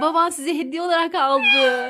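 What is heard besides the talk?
cat meowing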